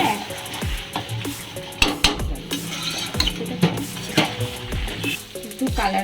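Mutton curry (khasir mangsho kosha) sizzles and fries in a pot while a utensil stirs and scrapes, with repeated metallic clinks and knocks over a constant frying hiss, close and fairly loud.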